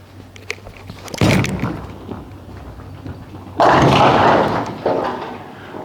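Ion Pro Solid bowling ball thrown down the lane: a heavy thud at release, then a loud rolling rumble and a crash of impact partway through, echoing in an alley, with no talk.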